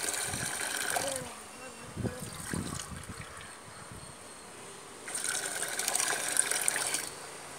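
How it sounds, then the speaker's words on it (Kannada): Salt is stirred into hot water for a vamana dhauti yoga cleanse, heard as quiet sloshing and trickling in bursts with pauses between, close and soft. "ಸಾಲ್ಟು ಈ ಬಿಸಿ ನೀರಿನಲ್ಲಿ ಚೆನ್ನಾಗಿ ಮಿಶ್ರಣ ಆಗಬೇಕು"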